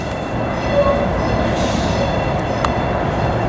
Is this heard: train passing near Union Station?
yes